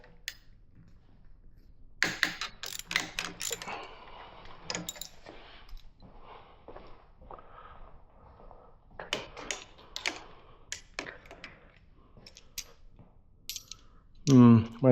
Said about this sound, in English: I got to loosen these clamps up